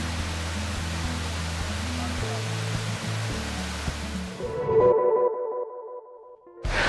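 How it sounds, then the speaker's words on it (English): A steady, loud broadband roar of the year-round waterfall at Walter Sisulu National Botanical Garden in South Africa fills the first four seconds, then cuts away to quieter tonal sounds before the rushing noise briefly returns at the end. "Probably the biggest attraction of the Botanical Gardens is the waterfall, and that's behind me right now."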